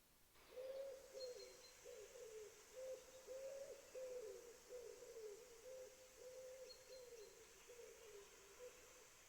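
A wood pigeon's soft, repeated cooing phrases play as a sound effect, a continuous rhythmic hoot sequence that is faint and clear over low background hiss, with no talk.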